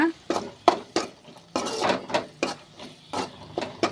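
Spatula scraping and knocking through a plantain stir-fry in a pan, a series of sharp rhythmic clatters and scrapes roughly every few tenths of a second, close and fairly loud.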